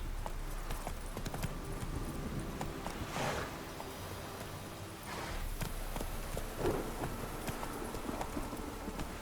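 Hooves clip-clop steadily as a horse gallops in The Witcher 3, a moderately quiet rhythmic drumming that runs throughout with no voices.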